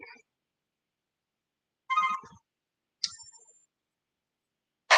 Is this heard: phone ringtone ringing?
yes